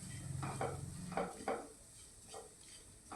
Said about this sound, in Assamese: এয়া মই চুজিখিনি ভাজি আছোঁ।